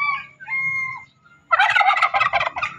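A turkey gobbles in a rapid, warbling burst after a couple of softer, tonal bird calls, fairly close and loud.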